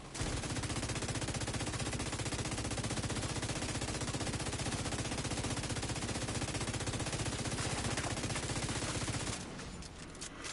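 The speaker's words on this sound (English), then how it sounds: "I hate these machine gunners, man." Enemy machine gun fire in the video game Division 2 rattles continuously and densely for about nine seconds, then cuts out, leaving a few scattered shots.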